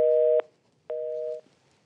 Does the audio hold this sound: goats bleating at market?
no